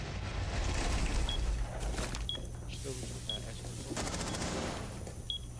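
Gunfire in a duo ranked Rainbow Six Siege match: rapid muffled bursts over a dense, steady game-noise bed, moderately loud and slightly distant throughout.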